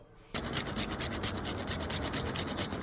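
Whole nutmeg rubs against a fine grater for shrikhand, giving a steady, close raspy scraping in quick repeated strokes that starts abruptly and runs without pause.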